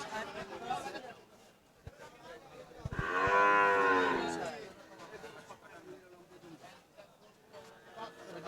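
Cattle at a busy open-air cow market in Pabna, Bangladesh: one long, loud nearby moo rises mid-clip above the crowd's steady chatter and scattered voices.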